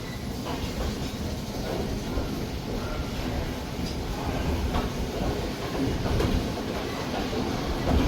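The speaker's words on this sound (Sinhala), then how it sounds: "දැන් හිඟුරක්ගොඩ දුම්රිය ස්ථානයේ දුම්රිය පිටත් වෙනවා." A steady rumble of the Udaya Devi Express pulling out of Hingurakgoda station, heard from on board as continuous moderate wheel and carriage noise with faint clatter throughout.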